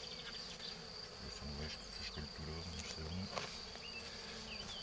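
Honey bees buzz steadily and close around an open Layens hive during a first inspection, a dense insect drone running throughout beneath a man's brief low speech.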